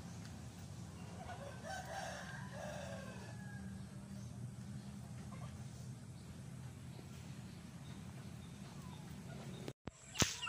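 A rooster crows at a distance around two to three seconds in, faint against a steady outdoor background hum, and a sharp knock or handling noise ends the stretch.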